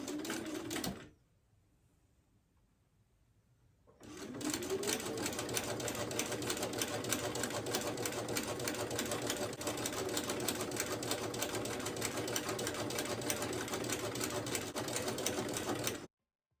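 A sewing machine pieces a quilt block with a steady, continuous whirring run. It starts with a brief burst, pauses for about three seconds, then stitches on evenly and close until it stops abruptly at the end.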